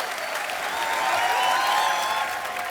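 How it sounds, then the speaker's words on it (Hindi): A TV comedy studio audience gives loud, sustained applause, a dense, even roar of many hands with light crowd noise that holds steady for a few seconds. "जोरदार तालियां एक बार।"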